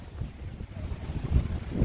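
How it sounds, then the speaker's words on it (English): Flowing water from a home water feature, a steady soft rush heard close by with low rumbling and some wind buffeting on the microphone, no voices. "So peaceful just listening to the water"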